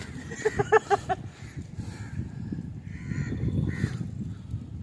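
A crow caws several times in a quick run, fairly near, followed by a low rumbling background and a few fainter calls.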